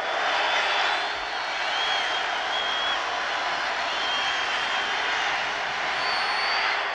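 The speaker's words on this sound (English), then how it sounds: "the crowd again really making noise on the third down situation" Football stadium crowd at Pitt versus WVU in 1989 roaring steadily on a third-down play, a sustained wash of noise at even loudness throughout.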